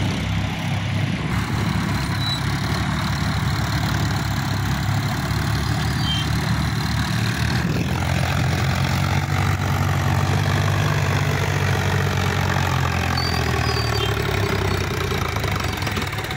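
A Sonalika DI tractor engine runs steadily at close range, a loud, even diesel chug with a low rumble throughout and no talking.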